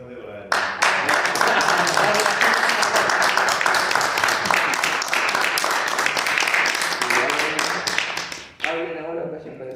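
Loud, dense applause from an audience at a book presentation at a book fair, steady for several seconds before tapering off abruptly near the end, with some voices mixed in.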